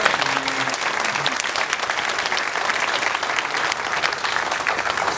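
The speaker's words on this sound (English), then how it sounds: "Let's give Scott a round of applause." A political event audience applauds a governor, dense sustained clapping from a large crowd, loud and even throughout with no voices standing out.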